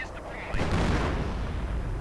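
Artillery fire in a 1v1 real-time strategy match: a broad, rumbling boom swells at about half a second and sustains a dense low roar through the rest, with commentary voices faintly underneath.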